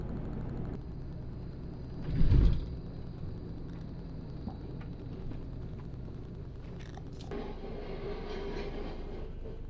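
A steady low rumble of a tram rolling along a city street, with a brief louder thump early on and faint squeals and clatter in the background.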